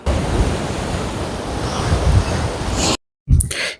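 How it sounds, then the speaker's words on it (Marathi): Continuous roar of sea waves breaking on the Konkan shore at Harihareshwar or Diveagar, loud and steady, with gusty wind noise; a brief dropout near the end before the surf returns. "समुद्राच्या लाटांचे नृत्य संगीत"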